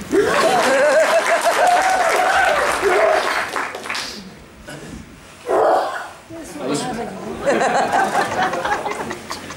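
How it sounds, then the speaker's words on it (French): Audience applause fills a live concert hall, loud and dense at first, dipping briefly midway before swelling again, with scattered laughter and murmuring chatter mixed in. "Vous pouvez l'applaudir, merci."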